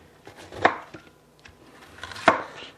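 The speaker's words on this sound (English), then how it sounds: "Quarter it, green pepper." A knife chops through an orange and a green pepper on a board, two sharp, loud thunks about a second and a half apart with quieter knocks between.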